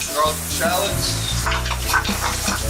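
Butter, garlic and shallots frying in a skillet, a steady close sizzle with light stirring and clinks, under a voice talking throughout.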